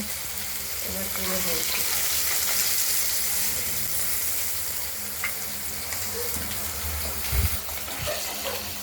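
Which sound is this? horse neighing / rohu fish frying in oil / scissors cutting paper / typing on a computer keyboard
rohu fish frying in oil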